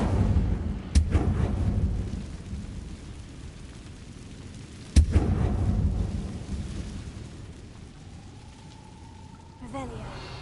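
The Incendio fire spell cast in the video game Hogwarts Legacy, heard as two sudden loud bursts that each trail into a rumbling roar, followed by a thin rising tone near the end.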